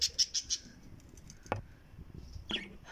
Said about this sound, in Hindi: शाम के वक्त इनकी चहचहाहट सुनने का मज़ा ही कुछ और है।